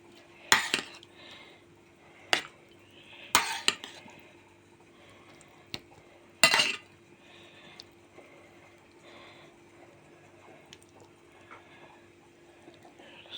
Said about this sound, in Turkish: Şimdi acı biber doğramam lazım.